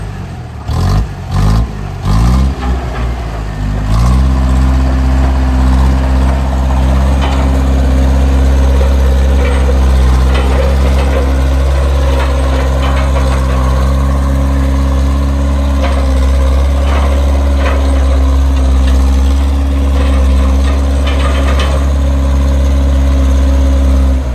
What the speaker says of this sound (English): you never yet see a bulldozer or a tractor, whatever they call this thing, in action, this is it